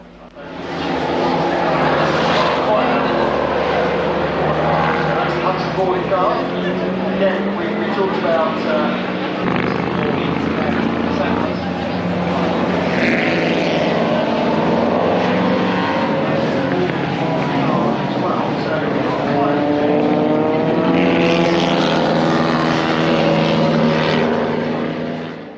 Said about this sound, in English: Oh my lord, what a fantastic sound on that car.